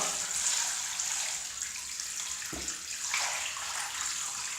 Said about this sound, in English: I now will fill this with water, which they call tank testing.